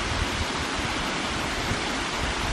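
River water at Rio Cuervo flows in a constant broad rushing wash, loud and close, with no voices over it.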